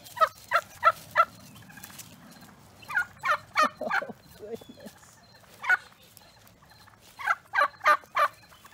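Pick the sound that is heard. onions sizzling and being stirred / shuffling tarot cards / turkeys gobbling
turkeys gobbling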